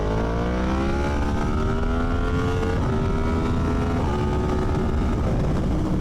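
Motorcycle engine revving on the road at moderate throttle, a steady loud drone with rising and shifting harmonic pitch as the rider pulls through the gears, continuous and close throughout.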